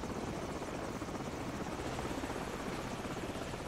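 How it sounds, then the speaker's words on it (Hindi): An enemy helicopter in the video game Call of Duty 4: Modern Warfare flies nearby, its rotor producing a steady, dense thumping roar that continues unbroken at moderate loudness. "ये दुश्मनों का हेलीकॉप्टर अपन को सर्च कर रहा है"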